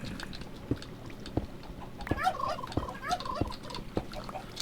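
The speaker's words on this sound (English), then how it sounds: "But just above us is my chicken and turkey farm" Turkeys on a Minecraft chicken and turkey farm let out several short warbling gobbles in quick succession, mixed with sharp clicks and a background hum of game sound, with no talking.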